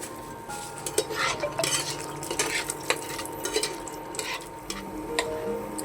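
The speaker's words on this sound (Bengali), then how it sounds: "কিছুটা কাজু বাদাম ভেজে নেবো আমি এটার মধ্যে, কিছুটা কিশমিশ ভেজে নেবো আমি" Cashews and raisins fry in ghee in a pan, heard mostly as a spoon stirring and clinking against the metal with a faint sizzle beneath, close and continuous.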